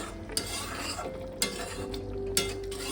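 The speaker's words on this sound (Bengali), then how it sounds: "মাছটা দিয়ে মিনিট পাঁচেক আমি একটু হতে দেবো" Katla fish pieces frying in a pan with oil, giving a steady close sizzle broken by three sharp utensil scrapes and clinks spaced about a second apart.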